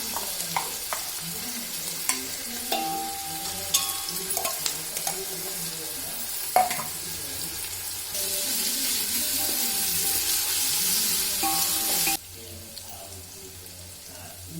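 Ginger garlic paste frying in a pan for chicken biryani: steady sizzling with scraping stirring strokes and occasional clinks, swelling into a louder hiss midway before dropping back down.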